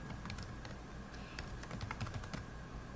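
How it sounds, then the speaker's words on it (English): Someone types quickly on a computer keyboard, a quiet run of close, crisp key clicks in an irregular rhythm with no voices. "so I'm going to type in Chicago"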